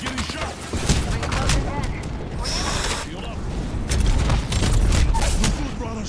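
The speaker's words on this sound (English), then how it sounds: "I'm getting shot." Gunfire hits the player in Apex Legends as dense, loud rattling bursts with mechanical clatter, running almost continuously through the whole stretch.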